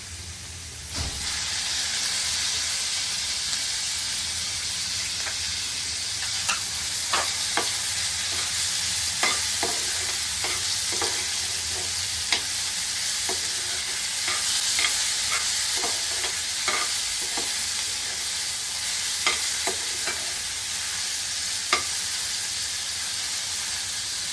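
Tomatoes and mixed vegetables for paneer bhurji fry in a pan with a steady loud sizzle, while a spoon stirs them in repeated scraping strokes throughout.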